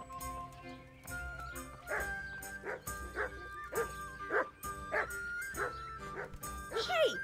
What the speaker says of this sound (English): What's all the barking about, you old hound?